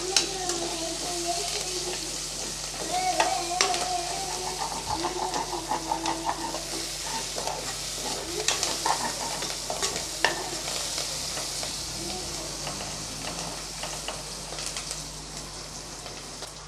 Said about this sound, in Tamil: ஒரு கைப்பிடி அளவு புதினா இலை சேர்த்துக்கலாம். கொஞ்சம் கொத்தமல்லி, இதையும் சேர்த்து நல்லா வதக்கி விட்டுறலாம்.